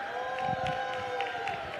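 A crowd cheers on a jai alai player named Paco at a fronton: a continuous crowd murmur with short bursts of cheering, over a steady background hum.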